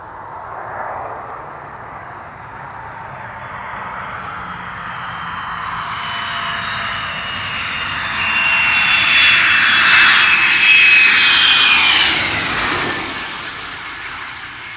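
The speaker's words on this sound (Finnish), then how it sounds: "hävittäjien syöksyessä taivaalta tilapäiselle kentälleen" Fighter jets dive in to land at a temporary road airfield, a loud jet roar building gradually, peaking as they pass overhead and then easing off, alone with no voices.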